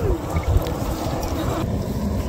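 Waves washing against a river shore in a village setting, a steady broad wash of water with constant wind buffeting the microphone throughout, no clear individual breakers.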